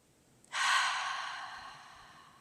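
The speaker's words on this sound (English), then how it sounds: "Deep belly breath, and exhale out through the mouth with the H-A-ha sound." A single long exhale through the mouth with an 'ha' sound during yoga breathing, starting abruptly after a faint inhale and slowly fading, close and breathy with no talking.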